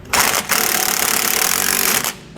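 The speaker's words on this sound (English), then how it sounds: "we can go back and run those down. We're going to use a 15/16 socket and wrench to do so." Steady, loud mechanical whirring as sway bar end link bolts are run down with a 15/16 socket and wrench on a 2021 Winnebago rear anti-sway bar install, continuous for about two seconds between short pauses, no talk.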